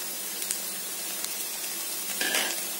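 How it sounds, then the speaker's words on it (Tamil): Goat blood fry with grated coconut being stirred in a hot pan, a soft continuous sizzle with a few small scraping clicks and a brief louder stir near the end, no voices. "நல்லா கிளறி விட்டுடலாம்."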